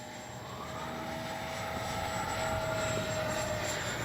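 FMS 80mm Futura V3 RC jet taking off with flaps set, a steady high-pitched ducted-fan whine that builds slightly and holds, with a thin tonal line over broad airy roar, no voices.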